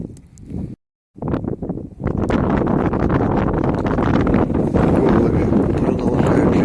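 Strong wind from a snowstorm roars and buffets the microphone in a loud, continuous rush after a brief silent gap near the start.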